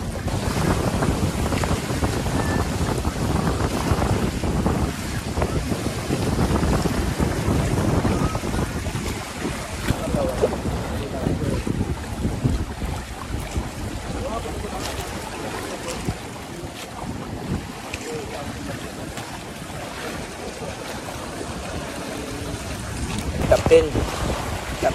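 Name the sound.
paraw sailboat sailing on the sea in wind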